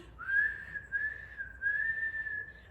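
A single person whistles one sustained, steady high note for about two and a half seconds, clear and close with only a faint background.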